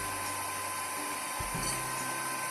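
Electric mixer running continuously as it beats margarine and sugar batter for a pandan butter cake, a steady close motor whine with a brief low knock partway through.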